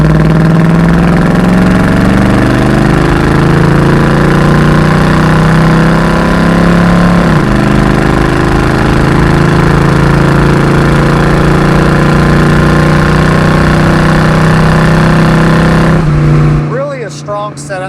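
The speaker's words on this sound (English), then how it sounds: "Exhaust note, good muscle car sound." A 1970 Ford Mustang Mach 1 with a 351 Windsor V8 and automatic transmission gives a loud, steady, deep exhaust drone close by. The pitch shifts near the middle and the sound drops off sharply at the end.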